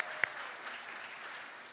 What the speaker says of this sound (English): let's continue to clap.